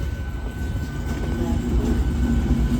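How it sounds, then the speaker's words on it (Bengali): A train rolls through a railway station with a steady, loud rumble and rattle that holds for about three seconds at close range. "আর এই সাইড দিয়ে একটা ট্রেন যাচ্ছে আর এই সাইড দিয়ে একটা ট্রেন যাচ্ছে"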